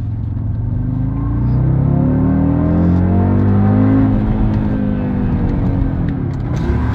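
A car accelerating hard from inside the cabin, a loud deep engine rumble with rising revs climbing steadily across the clip, close and without talk.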